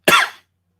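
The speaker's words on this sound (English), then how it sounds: "Whenever I'm sick, if I talk, I cough" A single short, harsh cough from a man recovering from a cold, close to the microphone and followed by silence.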